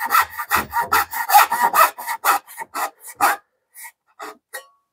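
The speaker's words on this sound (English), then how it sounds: "in this harder wood, that fine-tooth saw feels much better to me" A fine-tooth hand saw cuts through hardwood in quick, even rhythmic strokes, loud and close, slowing into a few spaced final strokes.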